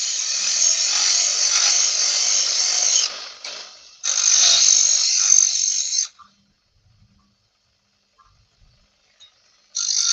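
A bench grinder putting an edge on a wood turning tool, a loud steady high grinding whine for about six seconds with a brief dip, then silence before it starts again.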